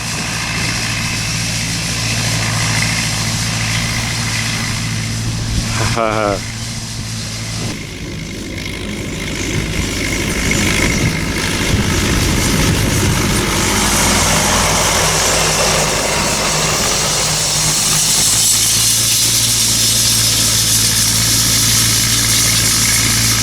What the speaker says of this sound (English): What a lovely, lovely little tractor that is.